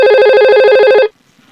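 A simulated VoIP phone in Cisco Packet Tracer rings with a loud, close electronic trill, rapid pulsing tones for about a second before cutting off into quiet.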